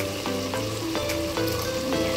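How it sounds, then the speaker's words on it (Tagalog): Tomato paste fries in a hot pan with a continuous close sizzle, broken by a few soft scraping strokes of a spoon as it is stirred, with no voices. "Lutuin nyo muna konti nung tomato paste guys."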